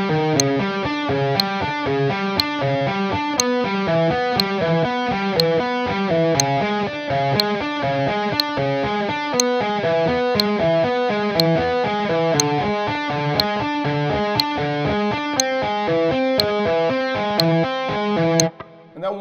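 Fast, even electric guitar legato and picking runs played in a steady rhythm over a sharp metronome click ticking about once a second, close and loud with a slightly driven tone, and no talking throughout.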